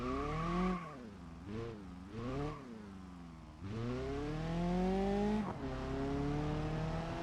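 A delivery van with performance upgrades is driven in the BeamNG driving game, its engine revving and climbing through several gear shifts, strong and close, with rising and falling pitch sweeps.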